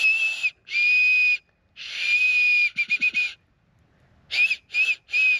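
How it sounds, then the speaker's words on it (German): Someone whistles shrilly through an acorn cap held between the fingers, producing several sustained and short piercing tones with pauses between them, close and loud. "Ihr nehmt die Eichelkappe und greift einfach einmal da drum, sodass hier eine kleine Lücke bleibt. Und anschließend pfeift ihr einfach nur noch hier rein."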